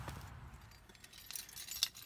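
Quiet, brief jingling of BMW X1 car keys with a few soft metallic clinks and rustles, close by.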